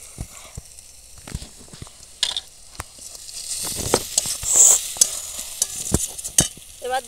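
Onion and garlic fry in a pan for chicken curry, giving a steady sizzle broken by sharp spatula scrapes and stirring knocks throughout, with no talking.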